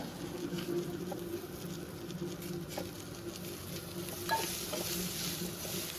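Onions and garlic being stirred in a pan, with a steady patter and soft sizzle of frying throughout and a few scraping stir sounds, moderately close, no talking.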